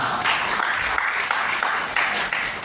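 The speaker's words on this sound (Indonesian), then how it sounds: "Tepuk tangan buat Tuhan, saudara." A church congregation claps in steady applause during a sermon, a broad continuous patter heard at moderate distance with no talk.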